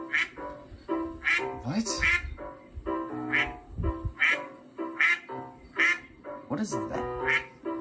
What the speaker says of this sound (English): There's an actual duck.